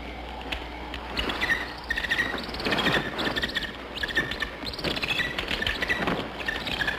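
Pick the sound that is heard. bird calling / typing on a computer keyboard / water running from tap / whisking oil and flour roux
bird calling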